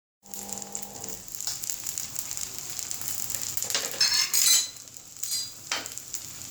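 Poha kebabs dipped in a batter of maida flour and chicken powder fry in hot oil. After a moment of silence, a steady, fairly quiet sizzle sets in, broken by louder crackling bursts.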